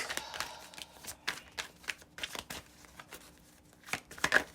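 Tarot cards are handled and shuffled in quick, soft riffling bursts and slaps, close but faint, with brief pauses between handfuls.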